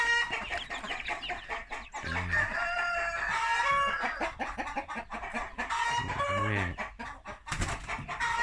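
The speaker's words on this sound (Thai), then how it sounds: "ทีนี้ก็จะพาเดินดูไก่" Several backyard laying hens and game chickens cluck and squawk nearby while roosters crow repeatedly, a busy overlapping farmyard chorus with no clear talk.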